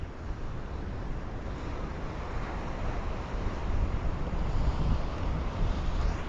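Ocean surf rolling in at the Jeffreys Bay point break, a steady broadband wash of breaking waves with wind rumble on the microphone, swelling slightly louder toward the end, no voices.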